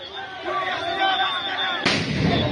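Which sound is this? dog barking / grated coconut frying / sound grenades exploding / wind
sound grenades exploding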